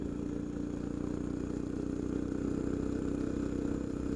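A Coleman CT200U minibike with cement-screw studs runs steadily on thin ice, its small engine droning loud and constant with a rattling, buzzing tone throughout.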